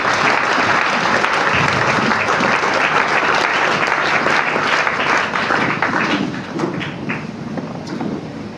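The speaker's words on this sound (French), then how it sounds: "nous l'accueillons avec acclamation" A church congregation breaks into loud, sustained applause and acclamation, a thick continuous roar of clapping and cheering that stays full for most of the stretch before easing slightly toward the end.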